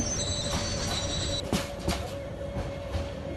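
A train in the Train Sim Bangladesh game rolls steadily with a continuous rumble and wheel noise, a high whine cutting out partway through and a few sharp clacks or squeals following.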